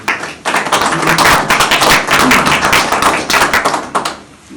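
Applause breaks out at a community meeting, many hands clapping in a loud dense patter that swells quickly, holds, then thins out and fades.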